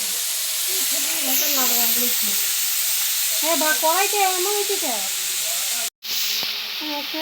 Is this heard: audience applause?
no